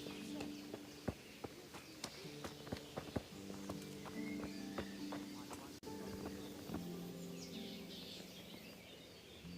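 Horse hooves in a video game clop at an unhurried walking pace, with faint birdsong and a murmur of background voices.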